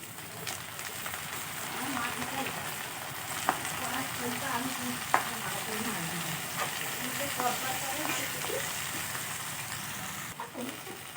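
Greens and potatoes fry in fish oil with chopped onion and chilli, giving a steady close sizzle with occasional sharp clinks from stirring and a faint voice in the background.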